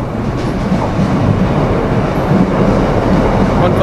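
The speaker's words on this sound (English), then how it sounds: "Here's the Sheringham train." Class 156 diesel multiple unit 156407 passes close by on its way to Sheringham, a loud steady rumble of engine and wheels with faint rail clatter throughout.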